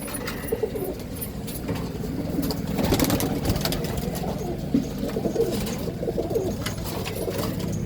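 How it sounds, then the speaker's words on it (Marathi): Pigeons, including a leg-tagged homing pigeon, coo steadily and close by over a low rumbling background for the whole stretch, with no voices. "ही त्यांनी पकडलेलं कबूतर आहे"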